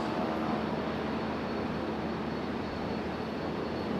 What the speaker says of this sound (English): Super soft touchdown.